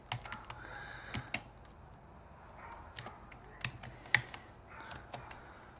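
Keys clack on a computer keyboard as a command goes into a DOS command prompt: quick irregular taps in small bursts, close and fairly quiet, with no talking.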